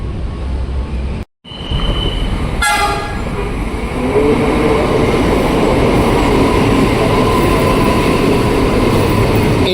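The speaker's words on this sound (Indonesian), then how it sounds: "Ini dia CRRC Transit 5 komuter tujuan stasiun Cikarang, keberangkatan dari Angke atau Kampung Bandan dari arah Manggarai ya" A CRRC electric commuter train at Cakung station rolls through with a loud, steady roar, a brief horn-like tone and a sharp interruption early on, then a sustained rumble.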